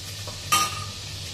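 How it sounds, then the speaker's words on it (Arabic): Ghee sizzles in a pan ready for frying onions, a soft steady crackle with one brief, brighter hiss or scrape near the middle, heard close up. "بس نزود حته سمنه صغنونه كده اهو"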